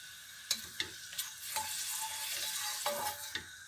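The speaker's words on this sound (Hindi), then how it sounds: "और अब जाएंगे जी प्याज जो चॉप किए हुए हैं वो डालेंगे और इन्हें ब्राउन करेंगे।" Chopped onions sizzle in about half a cup of hot oil, a quiet, steady frying hiss broken by a few sharp stirring scrapes and clicks, with no talking.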